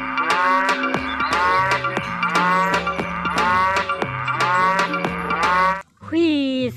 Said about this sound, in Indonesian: Ada satu ekor sapi perah.